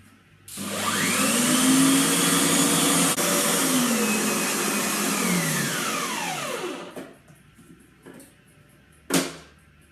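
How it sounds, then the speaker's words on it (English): An electric mixer whirs loudly at its highest speed, beating six eggs with water for a fruit cake, a steady motor drone with a slight falling pitch lasting about six seconds before switching off, followed by a brief clatter. "Now I need to mix this on the highest stand for 7 to 8 minutes"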